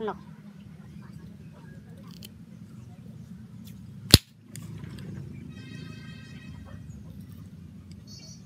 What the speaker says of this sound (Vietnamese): Cái khẩu nổ to phết.